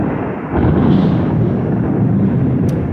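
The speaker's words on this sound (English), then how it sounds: "we had a little thunderstorm roll through a while ago. Still thundering" A low, sustained rumble of thunder from a passing thunderstorm rolls on steadily for several seconds, swelling slightly after the first half second, with no talk over it.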